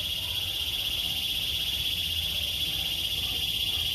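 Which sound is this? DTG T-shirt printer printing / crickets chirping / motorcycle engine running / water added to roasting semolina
crickets chirping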